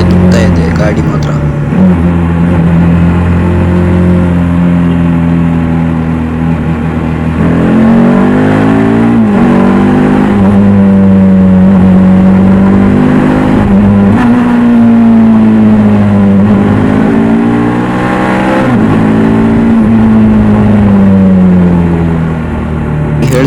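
A Bajaj Dominar 400 motorcycle engine hums steadily and climbs in pitch as the bike accelerates. The exhaust drones loudly and continuously under someone talking.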